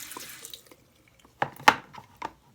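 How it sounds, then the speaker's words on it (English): Water poured straight into a toilet bowl during home plumbing work arrives as a few short splashing gushes after a quiet stretch, close and fairly loud, with no talking. "I'm just putting the water straight into the bowl, making sure nothing goes down the drain."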